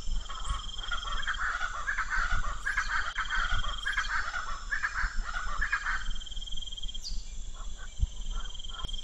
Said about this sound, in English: The call of the noisy chakalaka echoes across the lake.